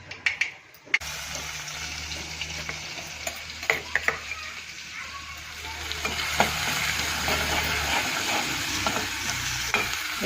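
Green onions, dry onions and potatoes with chilli and turmeric sizzle steadily in a pan, a constant close frying hiss broken by a few sharp clinks of a spoon stirring, growing slightly fuller toward the end.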